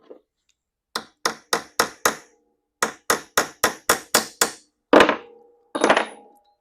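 A hammer tapping over the head of a soft tubular rivet, close and crisp: a run of five quick taps, a pause, then about seven more, followed by two louder, longer knocks.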